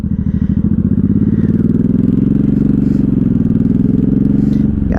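A 1983 Honda Shadow VT750C 750 motorcycle pulls away in first gear, its V-twin engine chugging in a steady, loud, rhythmic idle-to-low rumble recorded up close from the rider's seat, with a brief clunk near the end.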